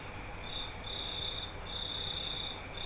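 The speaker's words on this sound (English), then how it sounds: "I'm sure you can hear that cricket" A cricket chirps indoors in steady, high, shrill trills, several pulsed bursts with short gaps, moderately loud over a faint room hiss, with no talking.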